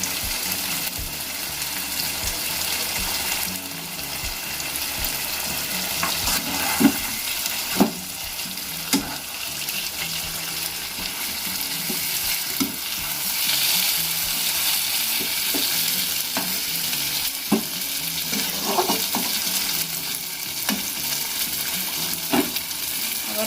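Chicken chaap being stirred in a pan, with a loud, steady sizzle running throughout and intermittent scraping and knocking of the utensil against the pan, no talking.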